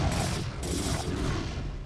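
A Terran siege tank is destroyed during a StarCraft: Brood War Remastered match on the map Space, with loud overlapping booms and gunfire-like bursts rumbling together in a short, dense volley.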